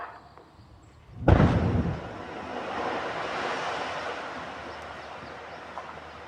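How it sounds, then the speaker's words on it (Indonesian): Blasting explosion at an andesite quarry hill, a sudden heavy boom after a quiet moment, followed by a long rushing rumble of falling rock and debris that slowly fades. "peledakan kami mulai dalam 5 hitungan mundur"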